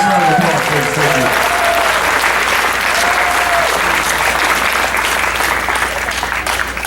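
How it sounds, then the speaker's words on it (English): Dense, steady applause from a fundraising gala audience, loud and continuous throughout, with a speaking voice briefly audible over it at the start. "So give them a nice round of applause, please."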